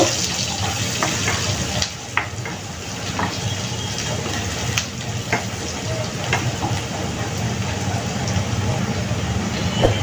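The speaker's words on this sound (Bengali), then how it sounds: "এটাকে একটু সময় আমি কষিয়ে নিব।" Ground turmeric, cumin and coriander powder sautéing in a pan for a Bengali fish and greens dish, a steady close sizzle with faint stirring scrapes and occasional light clinks, continuous throughout with no talk.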